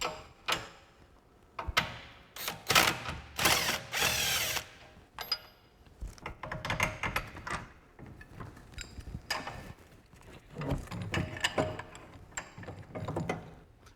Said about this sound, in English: So now we're going to remove the rear lower shock mount bolt. It's 21 millimeter hex.